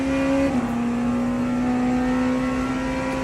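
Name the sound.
hypercar engine cornering in racing video game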